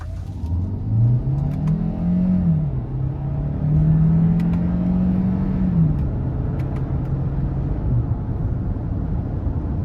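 A 2023 Hyundai Santa Fe Hybrid with a 1.6-liter turbo engine and 6-speed automatic accelerates, its steady engine drone rising and falling in pitch through shifts under constant road rumble, close and fairly loud, with no talking.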